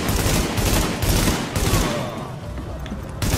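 Gunfire from the video game The Division, loud rapid bursts of automatic shots in rhythmic volleys, thinning out before a final burst.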